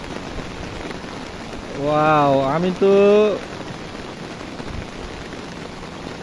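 Heavy rain falls steadily as a broad, even hiss across the whole stretch, with a person speaking briefly over it partway through.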